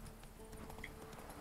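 Horse hooves clip-clop quickly and faintly in The Witcher 3 video game, a brief run of rhythmic thuds under game ambience.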